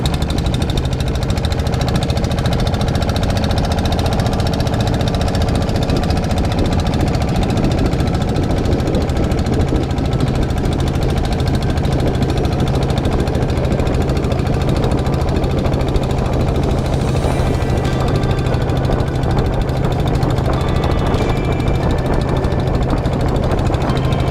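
A boat engine on Inle Lake in Myanmar runs loud and close with a constant rough, knocking drone that holds steady without pause for about twenty-four seconds.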